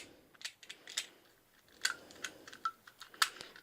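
Stampin' Up refill packs snapped together by hand, giving a quick series of sharp, close plastic clicks and taps spread irregularly over a few seconds in a quiet room.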